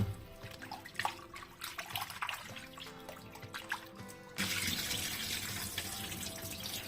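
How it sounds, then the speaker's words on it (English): Goat meat being rinsed under a kitchen tap, with splashing and handling in the sink for the first few seconds, then a steady, louder stream of running water to the end. "I will repeat it the second time to make sure this meat is properly washed."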